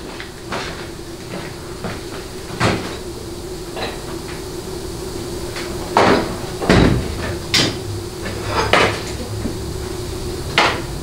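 Drawer in an automotive transmission workshop being opened and rummaged through for a transmission part, giving a series of sharp metallic clunks and knocks of varying loudness over a low steady hum, with no talking.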